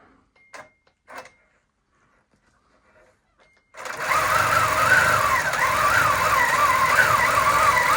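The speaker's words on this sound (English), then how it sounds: "I'm just sewing it, and it's really hard for me to push along" A sewing machine on a Grace quilting frame starts up after a few quiet knocks and then runs steadily and loudly, stitching a quilt with a continuous whirring drone.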